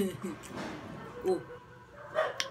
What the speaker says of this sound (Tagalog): Pasensya na kayo sa mga aso. Aso ng kapitbahay po namin.